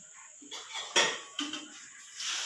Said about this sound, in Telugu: దీని మీద పాల మీద గిన్నె మీద ఒక మూత అండి.